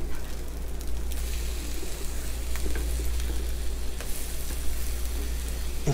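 French toast made with brioche bread fries in butter in a pan, giving a steady, close, even sizzle with soft crackles, under a low constant hum and no talk.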